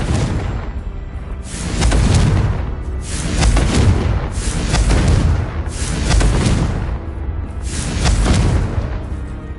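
Confringo blasting-spell explosions from the Hogwarts Legacy video game, a run of heavy booming blasts swelling and fading in rough waves, loud and close, with no speech over them.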